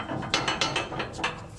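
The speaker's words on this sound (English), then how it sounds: "Looks like the ratchet strap's working." A ratchet strap is cranked tight on an abandoned old vehicle in a shop, giving a quick series of about five or six close, sharp metallic clicks in an uneven rhythm.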